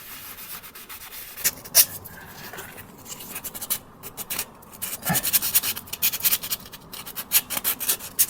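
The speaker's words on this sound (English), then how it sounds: "scuff it up a bit with the sandpaper that came included with this" Sandpaper scuffs a surface to prepare it for mounting a Stern Saver transducer plate, giving close, raspy rubbing strokes that start sparse and become a quicker, rhythmic back-and-forth toward the end, with no speech.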